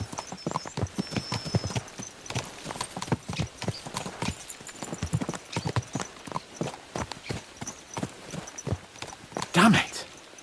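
Horses' hooves clip-clop in a fast, steady rhythm in the medieval game Kingdom Come Deliverance 2, close and fairly quiet, with a brief louder burst near the end.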